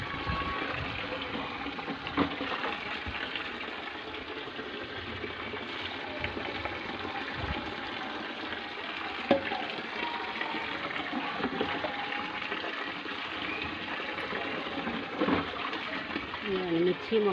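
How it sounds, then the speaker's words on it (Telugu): Tap water runs steadily into a bucket in a vegetable garden, a continuous broadband gush with small splashes that holds at an even level throughout, with faint background voices at times. "ఇంకా నిండాలి బకెట్."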